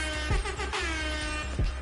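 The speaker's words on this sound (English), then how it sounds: "Air horn." An in-game air horn item from Fortnite blaring a loud, brassy, sustained tone, with two heavier blasts, one near the start and one near the end, and no talk over it.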